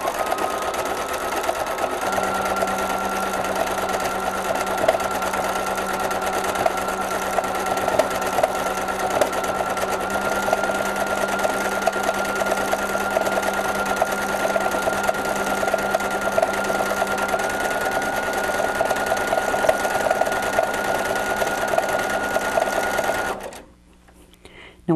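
An embroidery sewing machine stitches colored thread into a sunny beach bag design, running as a steady, continuous mechanical hum with a fast even needle rhythm for over twenty seconds before stopping abruptly near the end.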